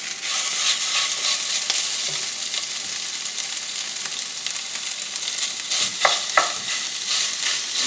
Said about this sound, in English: Now we're going to add our bulk sausage, and this is just, as I said, plain breakfast sausage.